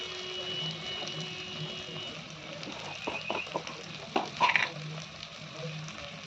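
Spice paste for a prawn and taro stolon curry fries in a pan with a soft, steady sizzle and quiet spatula scrapes and taps as it is stirred.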